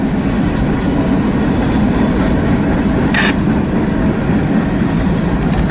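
Norfolk Southern freight train cars rolling past on the Harrisburg line, a loud, close, continuous rumble of wheels on rails with a brief squeal partway through.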